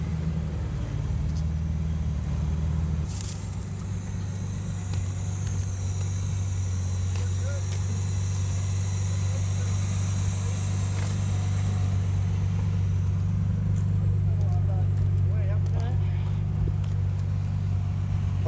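A 1967 Jaguar E-Type on its first drive hums along with a steady low engine drone and road rumble, close and constant, with a brief sharp knock early on.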